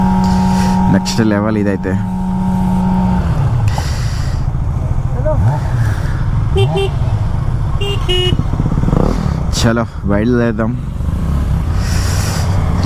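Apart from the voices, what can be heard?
Kawasaki 900 motorcycle engine running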